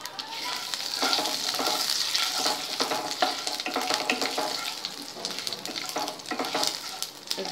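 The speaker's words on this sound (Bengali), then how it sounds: "এবার আমি পাঁচফোড়ন দিয়ে দিলাম।" Panch phoron, a five-spice mix, is dropped into hot oil in a pan after prawns are fried and sizzles steadily and loudly, with scraping stirring strokes throughout.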